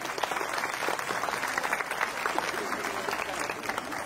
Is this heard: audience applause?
yes